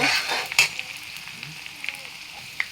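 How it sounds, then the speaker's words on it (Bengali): Onions fry in hot oil with a soft, continuous sizzle and crackle, a few sharper pops and stirring clicks scattered over it, heard up close and fairly quiet. "পেঁয়াজগুলো আমি লাল লাল করে ভেজে নেব"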